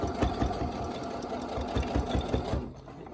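A sewing machine stitching a cloth face mask, motor whirring with a quick regular needle thump, near and steady before easing off at the end.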